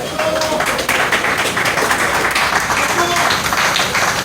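An audience at a political rally claps in a dense, continuous wash of applause that stays close and loud throughout, with voices mixed in beneath it.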